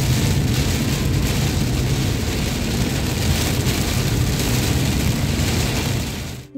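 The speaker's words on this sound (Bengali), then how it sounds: "এখন মারাত্মক বৃষ্টি শুরু হয়েছে" Heavy monsoon rain drums on a road during a drive through stormy weather, a loud, unbroken roar mixed with the low rumble of the moving vehicle, with no voices, fading slightly at the very end.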